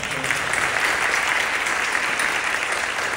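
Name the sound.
church congregation applause for two pastors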